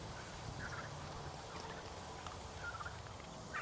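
Farm turkeys gobble excitedly in a steady, chattering chorus close by, with bursts of calls rising over a constant outdoor background and no talking.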